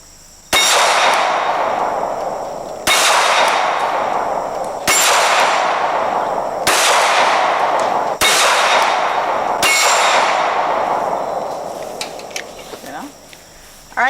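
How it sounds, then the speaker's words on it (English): Handgun rounds fired at steel targets outdoors, five loud shots each followed by a ringing metallic clang that fades before the next, with a quieter tail at the end. "if you could hear, we're shooting steel, and you actually hit your target"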